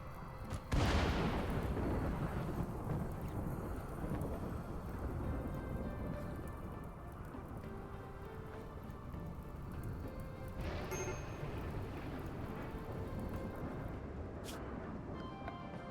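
Thunderstorm in the colony game Rimworld: a sharp, loud thunderclap opens into a long rumbling roll over steady heavy rain, with a fainter second crack later, no voices.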